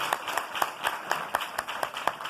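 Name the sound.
congregation clapping for the Lord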